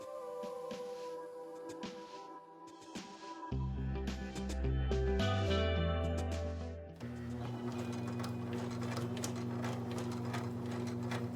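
A sewing machine stitches a two-piece shirt collar, its needle running in steady mechanical bursts that stop and start around the corners, loud and close, with a low motor hum throughout.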